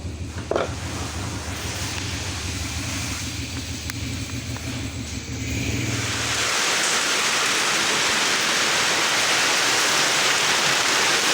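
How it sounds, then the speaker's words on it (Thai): Light rain falls outdoors, a steady hiss that swells into a denser, louder wash of drops partway through, with no voices. "ฝนตก โปรยๆเนาะ ไม่รู้ว่าจะหนักหรือเปล่า ฝนเริ่มตกแล้วเนี่ย"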